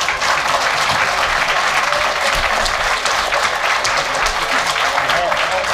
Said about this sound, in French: applaudissez pas trop